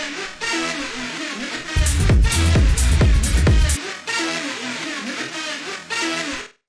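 Sampled synth line from a rave track, a dense, harsh, buzzing riff that swells into a louder, heavier middle section with deep low end before dropping back, playing alone without voices.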